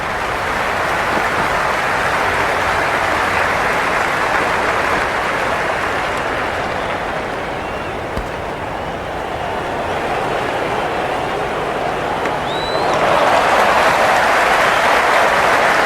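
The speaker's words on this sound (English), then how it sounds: "There's an almost tangible fervour throughout the crowd at the moment." A cricket stadium crowd in the Cricket 26 video game cheers and roars in a steady, broad wash of noise that swells slightly toward the end, with no talk over it.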